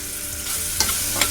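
Spices sizzle steadily in a hot pan for a green val bean curry, with a couple of short scraping stirs of a spatula over the continuous frying hiss.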